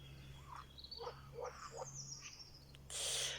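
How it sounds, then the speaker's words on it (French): Frogs croak in short separated calls from a forest pond with many pools, faint and close-ish against a quiet background hum, followed by a brief burst of hiss at the end. "Les grenouilles sont d'accord avec moi. Elles vont commencer leur concert."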